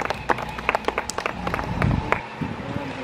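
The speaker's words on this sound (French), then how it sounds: "On peut l'applaudir." Scattered applause for a finisher at a karting grand prix: a handful of people clap in uneven bursts, fairly close, fading out after a couple of seconds.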